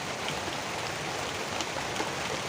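Heavy rain hisses steadily and densely beside the upper Cisadane river near Bogor, a constant, even wash of noise with no voices.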